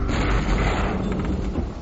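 A coast artillery gun fires with a heavy, loud boom whose low rumble rolls on for nearly two seconds, heard on its own without speech.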